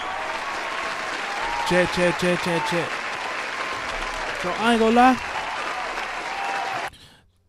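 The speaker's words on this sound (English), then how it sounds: "Turn the applause off for a second" Canned applause and cheering from a sound effect played during a livestream, a steady crowd-like wash running for about seven seconds, then cutting off abruptly. Someone talks over it and a second voice chimes in near the end.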